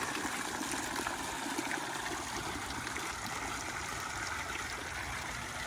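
Water running steadily in a landscaped garden fountain beside a marble-finished pool, a constant close splashing rush with no pauses.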